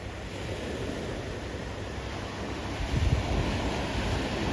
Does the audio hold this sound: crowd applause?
no